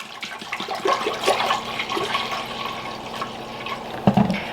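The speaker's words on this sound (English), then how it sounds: "We're gonna pour it in a pot." Orange and apple juice pouring into a pot, a continuous close splashing stream of liquid that ends with a brief clatter.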